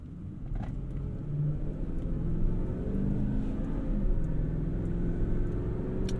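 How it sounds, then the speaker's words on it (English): A 2007 Ford F-150 pickup with a 5.4 Triton engine drives on the road, a steady low engine rumble and drone from inside the cab building gradually under light throttle. "Give this truck a drive."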